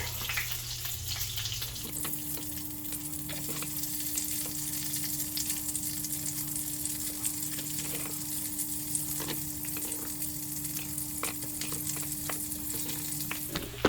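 Butter sizzling loudly in an overheated pan, a steady close crackling hiss running unbroken with a faint steady hum behind it and occasional sharper pops, no one speaking.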